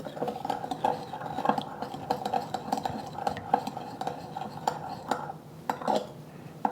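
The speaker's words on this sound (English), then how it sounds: "Just want to mix this until the sugar is dissolved. You can hear it at the bottom of your bowl." A spoon stirs sugar into a sauce in a bowl, scraping and clinking against the bottom in a steady rhythm of quick, close strokes.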